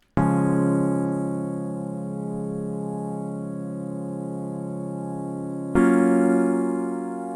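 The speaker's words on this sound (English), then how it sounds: "I took the chord progression with the Flex DX9 synth bass preset and played them over the intro" Sustained intro chords from a Flex DX9 synth bass preset, a full, droning tone held for several seconds before changing to a new chord near the end, steady and close with no other sounds.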